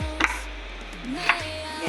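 A kitchen knife slices through eggplant for crispy fried eggplant, two sharp, close cuts landing about a second apart against a board, with a steady low hum behind.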